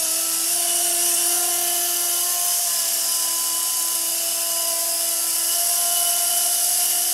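A small TX nano RC helicopter hovers in a constant high-pitched whine with a steady motor hum, close and unbroken, with no voices.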